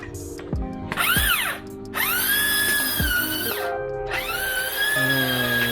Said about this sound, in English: using grinder with brush with a brush